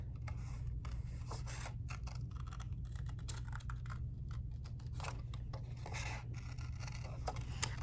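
Scissors snip through paper to cut out a small drawn person figure for an art project, a steady run of close, crisp cuts and rasping strokes over a constant low background hum.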